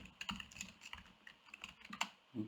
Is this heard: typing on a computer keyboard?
yes